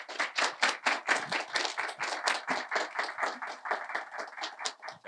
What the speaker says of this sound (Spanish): vamos a darle la palabra a nuestro conferencista de hoy, al disertante, pues Manuel San Pablo, con un aplauso